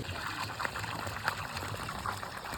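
Irrigation water runs steadily into an onion field, a faint, continuous trickling and gurgling flow with small splashes, heard on its own.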